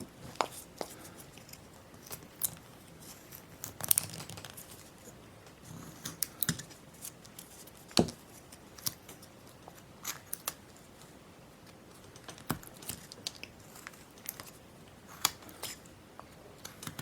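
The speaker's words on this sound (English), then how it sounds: "Make the stop cut, or you can use a V tool." A carving knife makes stop cuts in wood while shaping a snowman figure, giving short, quiet scraping and clicking strokes scattered irregularly across the clip, close and faint.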